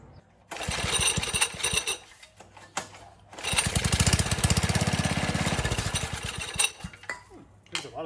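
A vintage Manco Thunderbird minibike engine sputters to life in bursts, with a rough, uneven running stretch and pauses where it dies back down, heard close up.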